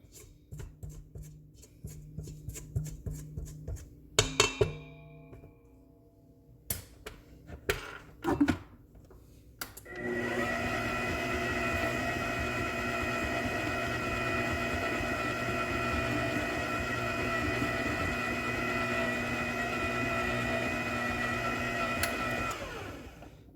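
An electric mixer whirs steadily through lemon cooler cookie dough, starting after about ten seconds of scraping and clatter, then running loud and even with a bright motor whine until it cuts off near the end.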